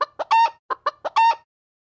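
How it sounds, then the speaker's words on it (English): A domestic chicken clucks in short, close, clear bursts: two quick clucks, then a longer drawn-out call, repeated once after a brief pause, with silence at the end. "Chicken."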